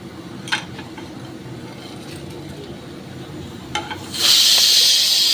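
Cinnamon and cardamom dropped into hot oil for a mutton pulao begin to sizzle, faint at first with a few clicks, then a loud bright hiss bursts up near the end.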